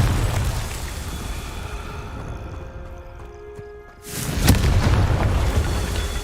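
Cast in Hogwarts Legacy, the Confringo spell sets off a deep, rumbling blast after a hissing, fading buildup, a loud burst with a lingering roar.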